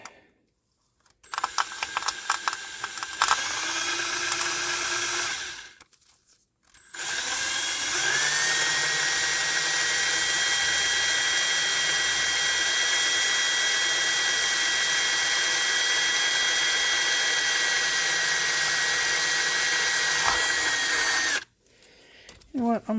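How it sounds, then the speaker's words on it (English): A power drill bores holes in a cracked Wei-Ya Promax C1000 circuit board, a close, loud whine that spins up in a short burst, stops, then runs for a long steady stretch before halting. "We are just going to drill these holes."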